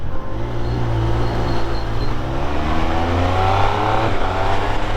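A Triumph Speed Triple 1200 RS motorcycle ridden at night in sport mode, its engine holding a steady loud drone with a slight rise in pitch, wind rushing around the rider throughout.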